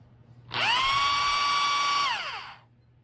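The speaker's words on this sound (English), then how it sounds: "This is a 7/8 socket electric drill with an adapter from the hex bit to a socket." An electric drill with a 1/2 inch hex-to-socket adapter spins a Tuff Torq K46 transaxle input with the bypass valve open, a close, loud motor whine that quickly rises, holds steady for about one and a half seconds, then winds down.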